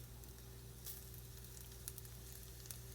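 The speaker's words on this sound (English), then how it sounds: "it's not going to super sizzle, but that initial crackle" A precooked vegan sausage in a pan over fairly low heat gives a faint, steady sizzle with a few soft crackles, under a constant low electrical hum and with no voices.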